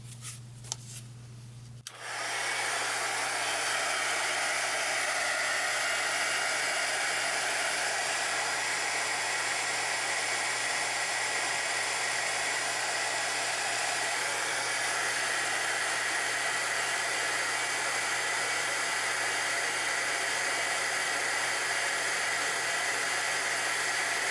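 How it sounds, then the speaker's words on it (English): An embossing heat tool blows hot air over a faux leather polymer clay bracelet, switching on after a brief quiet moment into a loud, steady, unbroken whoosh that runs for over twenty seconds. "turn on my embossing powder gun. Or embossing heat tool"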